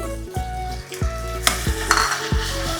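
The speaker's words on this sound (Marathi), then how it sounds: "आता आपल्याला टॅमॅटोची ग्रेव्ही टाकायची आहे" Tomato gravy goes into a hot pan for a traditional okra and prawn dish, sizzling loudly as a spoon stirs it with regular scraping knocks against the pan about every half second, with no talking.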